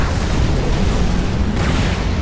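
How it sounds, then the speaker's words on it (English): Mobile artillery firing explosive rounds in the real-time strategy game Tiberium Wars, a short, loud, continuous rumble of booms and blasts with little variation. "Mobile artillery. Fire at unit will."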